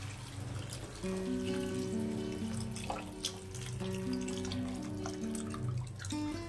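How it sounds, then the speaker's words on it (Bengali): Warm water is poured into a pan of bottle gourd greens cooked with mustard paste, making a trickling, gurgling pour with a soft drip and bubbling. Faint tonal hums sound underneath and nobody speaks. "দিয়ে দেব উষ্ণ জল।"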